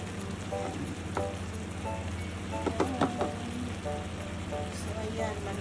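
Chicken pieces sizzle and fry in a pan while adobo cooks with Japanese soy sauce, a steady close crackling hiss with occasional clinks of a utensil.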